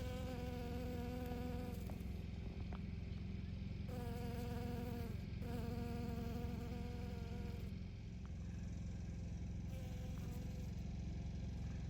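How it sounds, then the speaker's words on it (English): Bees buzz around chicory flowers outdoors in a garden, a steady droning hum that swells and fades in repeated stretches, close by and continuous. "Oop, there went a bee."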